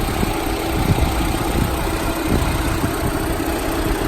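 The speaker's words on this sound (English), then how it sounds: "And as you can probably hear, I do have the car running as well." A Mitsubishi Outlander's engine idles with a steady, low, rumbling drone heard close up from the engine bay, continuous and even with no talking.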